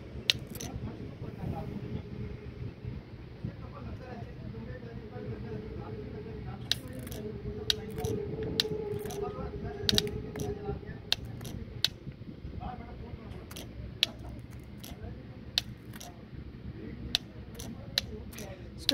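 The fuel shutoff solenoid of a Caterpillar 140H grader springs back with a series of sharp mechanical clicks, scattered across a background of handling noise while someone talks.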